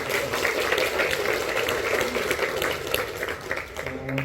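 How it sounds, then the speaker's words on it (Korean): A church congregation gathered for a March 1st independence memorial prayer service claps together in sustained applause, with a voice briefly audible as the clapping fades out. "우리 한번 박수 해주실래요?"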